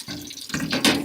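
Running tap water rinses brass instrument pieces and tubing in a sink during band instrument cleaning, a steady close splashing flow that swells louder in the final half second.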